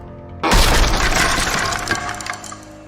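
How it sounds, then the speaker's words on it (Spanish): A door kicked open hard, a sudden loud crash of splintering wood with rattling debris that trails off over a couple of seconds, no voices. "Dio una patada fuerte con mucha decisión y abrió la puerta."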